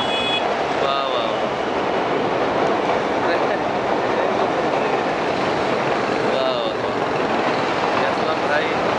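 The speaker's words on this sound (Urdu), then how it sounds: "تو یہ ٹرین بھی یہاں سے گزر رہی ہے" A train rumbles steadily across the old Kotri bridge over the Indus River, a continuous loud roar with faint squeals and clatter, while people talk over it.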